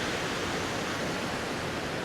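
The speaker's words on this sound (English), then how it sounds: "There's the rushing water from the waterfall." Rushing water from a waterfall along a forest trail near Ketchikan, Alaska, a steady broadband roar that fills the whole moment with no pauses or voices.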